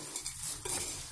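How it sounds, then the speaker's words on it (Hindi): Bhelpuri ingredients tossed in a bowl make brief soft scraping and rustling stir sounds, close and fairly quiet, with no talk. "अब इसको इस तरीके से सारा मिक्स कर देंगे।"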